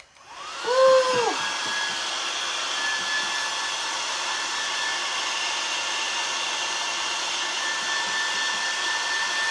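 A hair dryer switches on and blows in a steady, loud, close whoosh while drying a decoupaged wood craft kit piece, holding constant after a brief rising start.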